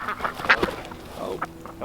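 Breeding ducks quack in a few quick bursts close by, with rustling handling noise between the calls.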